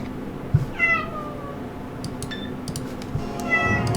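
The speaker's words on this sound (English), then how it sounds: "What are you meowing about?" A house cat meows a few times, with one clear meow near the start and a couple of shorter ones later, close by over a steady low hum and a few faint clicks.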